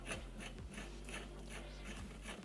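A puller tool being screwed onto the ignition rotor of a KTM/Beta motorcycle engine during stator removal, giving close, repeated ratcheting clicks and metallic turning in a steady rhythm, with no talk.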